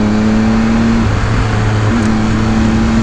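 A 2018 Triumph Speed Triple 1050 S motorcycle engine growls steadily and loudly at close range, holding a throaty hum that dips and returns, with heavy wind rush over it.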